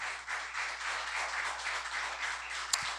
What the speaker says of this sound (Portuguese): Você pode dar mais um aplauso para o Senhor nessa noite